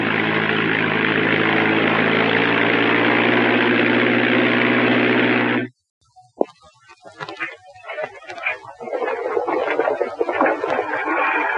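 Propeller aeroplane from a 1936 film droning loudly and steadily overhead, then cutting off abruptly into a quieter stretch of scattered clatter and crowd noise.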